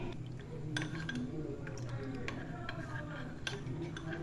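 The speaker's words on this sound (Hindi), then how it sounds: "अब इसे हम अच्छी तरह से मिक्स कर लेंगे" A spoon stirring custard into milk in a pot for a sewai vermicelli sweet, giving soft irregular clinks and taps against the metal with a faint liquid swish underneath.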